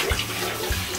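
Shower water runs during a puppy's bath, a loud steady rushing spray with a couple of brief low thumps as the stream shifts, no voices.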